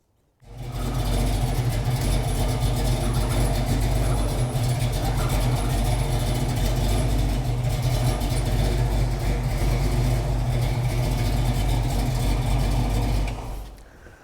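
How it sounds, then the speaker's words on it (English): A classic Ford Mustang engine fires up and runs steadily after a power steering install, a loud, close, even idle rumble holding for about thirteen seconds before cutting off. "Now I think we can fire it up and start turning the wheel back and forth."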